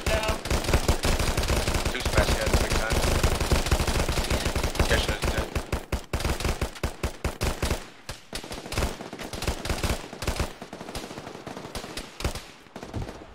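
Heavy gunfire in the military shooter Arma on the Stratis map, rapid machine-gun bursts hammering loud and continuous at first, then breaking into scattered sharp single shots and shorter volleys.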